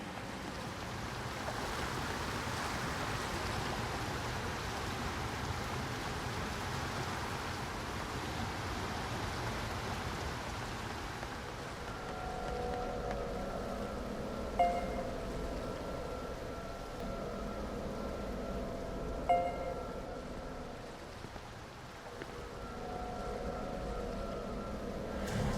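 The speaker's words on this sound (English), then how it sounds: "The only sound is the rain." Steady, faint rainfall in Nier Reincarnation, a continuous soft hiss that thins slightly partway through, with no voices over it.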